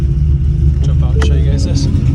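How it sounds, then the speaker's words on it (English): A car engine idles with a Ghost Cam tune, a loud, close low rumble that turns uneven and choppy, with someone talking over it. "So you can hear us just jump into Ghost Cam. Hear it starting to chop there."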